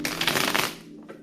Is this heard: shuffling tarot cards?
yes